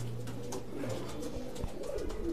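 Teddy pigeons of Oman bloodline cooing inside a loft, low burbling calls over a steady background hum, with a few knocks and rustles and no speech.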